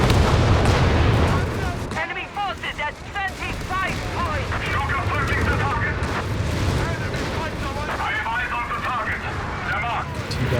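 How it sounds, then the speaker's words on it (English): Artillery fire in the Company of Heroes 3 video game, heavy rumbling booms at the start fading into continuous battle noise with scattered crackling gunfire, under nearly constant talk. "Now he's got the officer's artillery coming as well."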